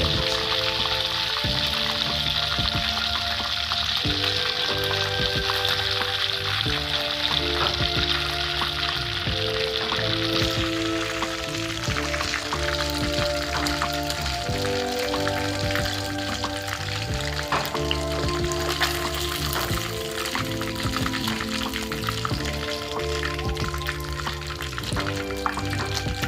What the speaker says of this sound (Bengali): আগে বড় টুকরোগুলোকে ভেজে তুলে নিচ্ছি।